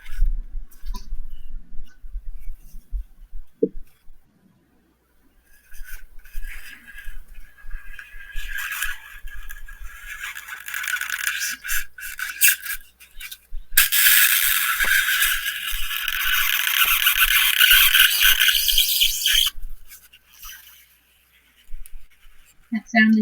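A knife scraping and cutting into cosplay material while the piece is rotated against the blade, giving a rough, sustained scratchy rasp that swells loud midway, with talk around it.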